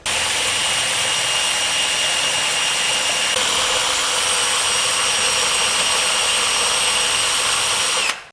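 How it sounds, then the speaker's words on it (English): A power drill with a 5/32 bit bores steadily into the rivet head of an old handsaw, a loud continuous high whine that holds for about eight seconds before cutting off abruptly. "I'm just going to drill as far in as I think I need to break this head off on this side."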